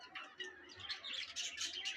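Many caged birds chirp and twitter at a busy bird and animal market in Mirpur, Dhaka, a dense, overlapping chorus of high calls with a few soft low coos mixed in.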